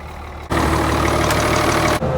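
A tractor engine running during orchard grass hay cutting gives a loud, steady mechanical drone that swells abruptly after a quieter start and briefly dips near the end, with no speech.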